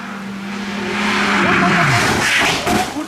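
A race car losing its back end ahead of a chicane, engine howling as the tyres skid and squeal before it slides into the barriers, loud and close with a commentator talking over it.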